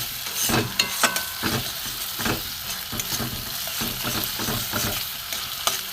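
Spice paste and peanuts stir-fried in oil for a vegetarian cabbage paneer dish, a steady crackling sizzle close by with repeated scraping strokes of the spoon against the pan, no voices.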